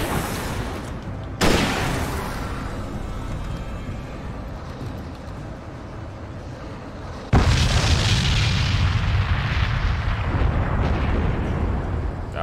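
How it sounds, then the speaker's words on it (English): Large explosions in the video game Alan Wake: two heavy booms, the second bigger, each followed by a long rumbling roar of debris and fire. "That was a big explosion."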